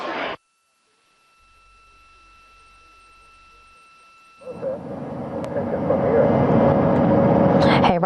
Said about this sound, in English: we are seeing the helicopters circling Orion